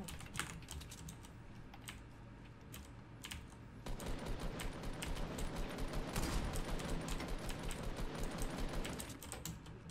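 Fast keyboard clatter runs throughout, and a denser burst of rapid gunfire from the Fortnite video game joins it halfway, the shots aimed at buildings and staying moderately loud without speech.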